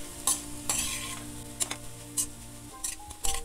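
Soaked poha being stirred in a pan, with a scattering of scraping strokes over a steady low hum and a faint sizzle, no voices.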